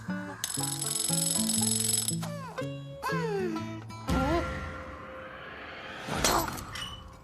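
Alarm clock being wound and going off in a French children's cartoon, with bright ringing and clattering over background music, followed by a short burst of shattering and clinking near the end.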